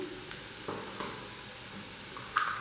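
Onions fry in hot oil as turmeric powder goes in for a pumpkin curry, giving a steady, soft sizzle with a few faint clinks and stirring scrapes, close and without talk.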